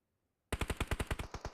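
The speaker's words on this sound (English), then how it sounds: "They will hear this gunfire over towards Power" Rapid automatic gunfire in the battle royale game PUBG Mobile during a competitive esports match, a loud burst of about a dozen evenly spaced shots starting abruptly after a moment of silence.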